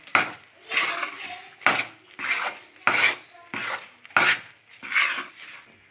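A spoon rhythmically scrapes and stirs thickening Mysore Pak mixture with baking soda in a pan, about eight close, raspy strokes in steady succession.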